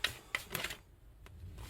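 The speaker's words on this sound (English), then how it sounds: "one more shuffle" A deck of playing cards is shuffled by hand, giving a couple of quick riffling bursts up close followed by a soft tap and quieter handling.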